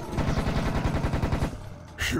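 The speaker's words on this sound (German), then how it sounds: "Neue Waffe! Jetzt schnell schießen." Rapid automatic gunfire from a weapon in the video game Serious Sam: First Encounter rattles in a fast, even burst of about a dozen shots, then stops briefly before another sharp blast.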